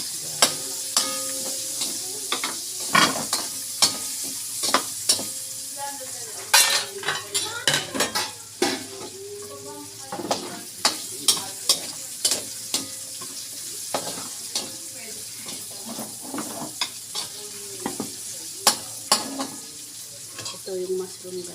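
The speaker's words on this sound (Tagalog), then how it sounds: "Igisa natin yung sibuyas." Onion sautéing in a pan, with a constant sizzle under frequent scraping and clattering utensil strokes in an irregular rhythm, close and clear, with no talking.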